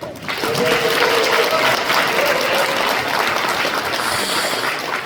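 An audience claps steadily at a government policy briefing in a Cheongju hotel hall, loud dense applause that holds for about five seconds with a faint voice briefly audible underneath.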